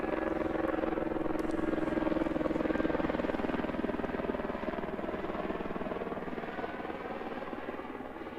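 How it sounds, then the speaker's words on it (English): Helicopter flying over a snowy alpine airport, a steady droning rotor and engine hum with a faint buzzing tone, moderately distant and slowly fading, no talk. "Another chopper coming over as well."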